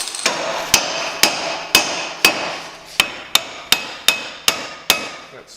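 Sharp metallic hammer strikes ring out one after another, about a dozen blows at a steady pace, close and loud with nothing else.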